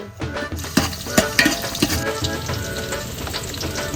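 Rice frying in masala for snakehead fish biryani, a steady close sizzle with sharp stirring scrapes and clanks of a spoon against the pot, no talking.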